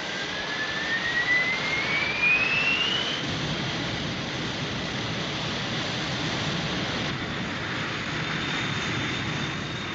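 Roaring jet engines from an animated series, a loud steady wash of noise throughout, with a rising whine sweeping upward in the first few seconds and no voices.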